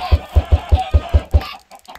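Chickens cluck in the video game Minecraft, a quick run of seven evenly spaced, loud clucks followed by a short pause.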